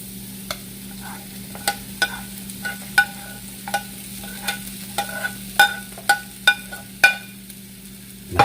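Onion and garlic sautéing in a pan while making a spinach quiche, with a steady low sizzle beneath a run of sharp utensil taps and scrapes that come every half second or so, growing louder toward the end.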